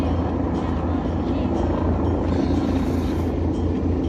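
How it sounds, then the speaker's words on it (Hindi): A helicopter flying near Kedarnath, a steady low droning rotor hum that stays continuous at moderate loudness throughout. "वो यात्री हेलीकॉप्टर से आते हैं, और बाबा जी के दर्शन करने के बाद वापस हेलीकॉप्टर से ही वापस चले जाते हैं।"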